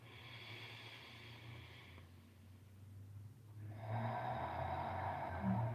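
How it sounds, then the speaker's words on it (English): A group doing a breathing exercise exhales audibly, making long, breathy rushes that pause briefly and then return louder. The sound is close but fairly faint, with no talking. "I'm going to invite you to please make some noise with your breath."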